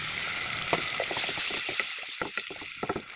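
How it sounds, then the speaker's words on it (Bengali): Masala sizzles and crackles as it fries with water in a pan, a steady hiss with scattered pops and scraping stirs of a utensil against the pan. "এখন আমি মশলাটার মধ্যে একটু বেশি করে জল দিয়ে কষিয়ে নেব।"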